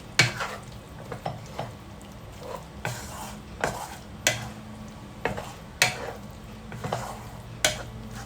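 A spoon scrapes and clinks against a pan while stirring a Kerala-style prawn roast, with irregular metallic taps every second or so over a soft, low sizzle and no speech.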